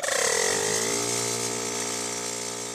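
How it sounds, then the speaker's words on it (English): An air horn kit's electric compressor runs to fill its air tank, a continuous close mechanical whine and buzz that holds steady throughout without talk. "So now we're going to turn on our compressor to fill our tank for the needed air supply."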